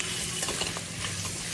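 Onion, ginger and garlic frying in a pan give a steady close sizzle, broken by soft scraping taps from stirring, with no voices.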